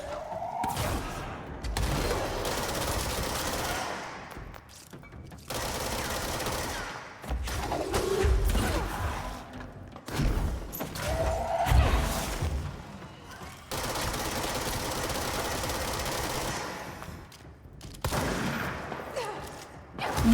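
Gunfire in the game Control: long sustained bursts of automatic fire, loud and close, broken by short pauses, with occasional thuds and impacts.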